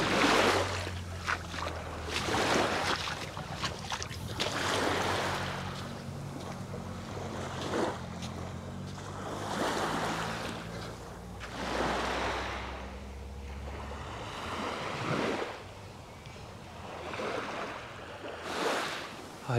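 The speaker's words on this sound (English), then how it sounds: "Just having my first little paddle of the day." Feet paddling in warm shallow sea water at a beach in Port de Pollença, Mallorca: repeated soft splashes and sloshing wavelets over a low wind rumble, with no talking.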